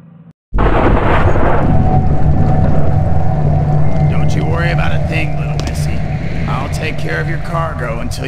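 Stormy game ambience from Thief 2X: Shadows of the Metal Age, a loud continuous low rumble of thunderstorm and wind beginning abruptly after a brief quiet start, with faint watery and creaking sounds over dangerous waters.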